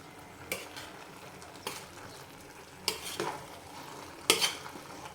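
A spoon stirs cooked khichuri in a pot, giving four distinct scraping strokes spaced about a second apart over a quiet background, the last one the loudest.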